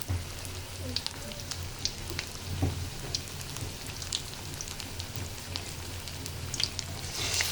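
Cauliflower pieces frying in a pan at home, a faint, continuous crackle with scattered pops and spits, quiet and close throughout.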